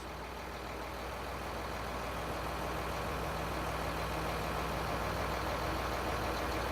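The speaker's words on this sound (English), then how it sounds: "We got the vehicle started." A vehicle's engine idles steadily after being started, a continuous low hum and rumble that holds an even, moderately quiet level with no voices over it.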